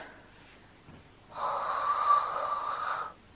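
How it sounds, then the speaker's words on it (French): A deep breath in during a breathing exercise, one steady airy inhalation lasting under two seconds, close to the microphone, following a brief quiet pause with no talking. "J'inspire."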